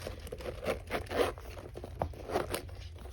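Several short zipper pulls and rustling bursts from an MCM Aren Boston mini bag, close and fairly quiet, coming in an irregular rhythm with no voices.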